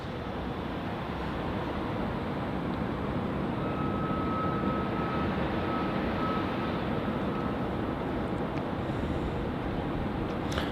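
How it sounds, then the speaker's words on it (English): Steady, continuous roar of a Qantas Boeing 737-800 jet departing Melbourne Airport, loud and unbroken throughout with a faint tonal whine, no voices over it. "our next departure is going to be QF 796 heading off to Alice Springs"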